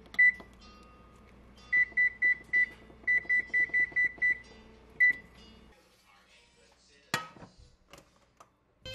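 An oven's control panel beeps in a rapid run of short, identical electronic tones, grouped in quick bursts as the temperature is keyed to 400 degrees, close and clear, followed by a few quieter clicks and knocks.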